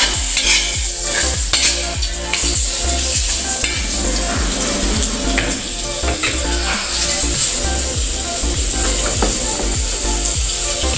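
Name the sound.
sautéing in a pan for wild dove dish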